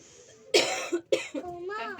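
Two sharp, close coughs from someone with a sore throat, about half a second apart, followed by a short voiced throat sound.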